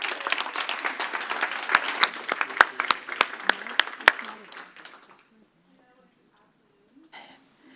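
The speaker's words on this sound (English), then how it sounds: "Give a huge round of applause." An audience breaks into loud applause with sharp individual claps standing out, then the clapping fades to near silence by the midpoint before a brief faint sound.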